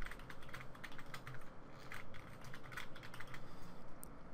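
A password is typed on a computer keyboard in a quick, steady patter of soft key taps, close but quiet, over faint background hiss.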